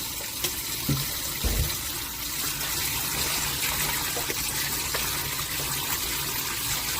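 Perilla leaves are rinsed under a running kitchen tap, a steady, close rush of water with a few brief splashes and knocks early on.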